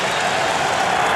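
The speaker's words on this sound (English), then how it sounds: "he is receiving an ovation" Basketball crowd ovation at an NBA Finals game in Los Angeles as Mark Madsen checks in for the Lakers, a steady, dense roar of cheering and clapping filling the arena without a break.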